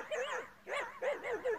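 A hunting dog facing wolves gives several short, strained yelping barks in a quick run, close and moderately loud, with a whining, wavering edge.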